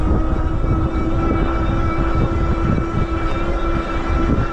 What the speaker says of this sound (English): I'll let you listen to the motor.